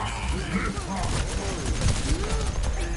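Mini bombs go off in a video game as a rapid run of sharp, close explosive pops and crackles layered over the game's steady background music and effects.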